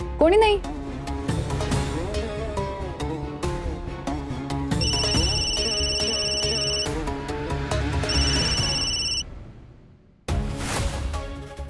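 A mobile phone ringtone chimes in two separate bursts, its bright electronic tune ringing on unanswered while people talk over it and background music plays.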